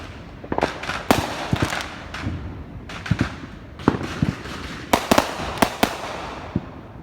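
Fireworks bursting outdoors, set off by kids trying them for the first time: a rapid series of sharp cracks and bangs, some clustered in quick pairs, close and loud over about seven seconds with no talk.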